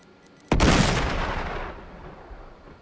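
A grenade detonates in Uncharted 3 with a single loud, close explosive blast that booms heavily and then rolls into a long, fading rumble, with faint game ambience before it and no talking.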